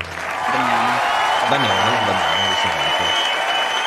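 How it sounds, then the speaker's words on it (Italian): A studio audience at an Italian quiz-show evening styled on Who Wants to Be a Millionaire applauds steadily throughout, a warm continuous clapping wash, while a host speaks over it. "Un applauso per te dal nostro studio."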